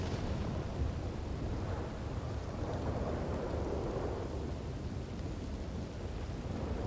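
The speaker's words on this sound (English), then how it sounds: "This storm's real loud." Loud thunderstorm in the Red Dead Redemption 2 roleplay game: a continuous rumble of thunder over heavy rain, swelling and rolling for several seconds with no voices.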